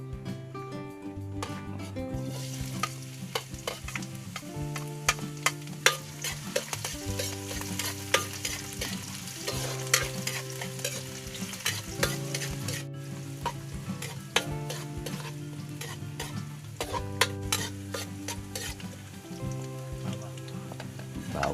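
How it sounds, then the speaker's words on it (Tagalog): Onion, garlic and ginger sizzle steadily in hot oil as a utensil stirs and taps against the pan, with a faint voice underneath. "Lagay ng mantika at magigisa muna."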